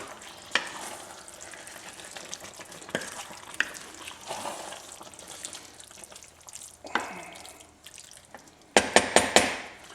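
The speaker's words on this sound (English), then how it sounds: "I'm going to give this a quick stir" A quick stir of pastalaya in a pot, a soft continuous sizzle with scattered scraping and clinks of a utensil, building to a louder burst of clattering stirs near the end, with no talking.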